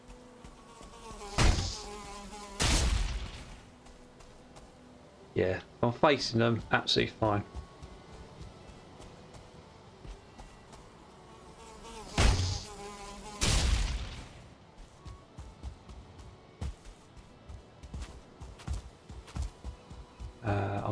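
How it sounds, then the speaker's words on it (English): Mosquitoes in the video game Valheim buzz in several whining bursts, the loudest swarm rising in the middle of the clip. Someone talks over parts of it. "Another mosquito."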